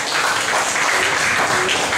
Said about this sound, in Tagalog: Palakpakan natin ng malakas si Lord.